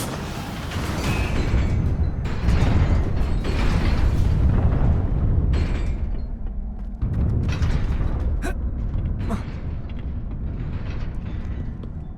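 Incendio fire spell cast in Hogwarts Legacy, a loud roaring whoosh of flame building and rumbling for several seconds, followed by a couple of sharp magical zaps and a quieter lingering hum.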